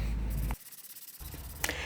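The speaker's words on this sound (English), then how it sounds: "here I'm just sanding off some of the adhesive that was left on after removing the cork." Steady abrasive rubbing of sandpaper, close and loud, sanding leftover adhesive off a surface after cork removal, with a brief pause midway before the scraping strokes resume.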